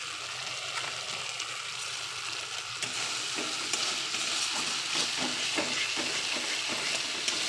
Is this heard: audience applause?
no